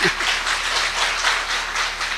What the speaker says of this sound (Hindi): ताली बजा दो भाई अपने लिए